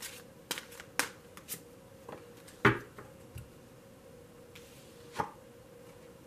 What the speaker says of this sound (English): Please bear with me as I shuffle.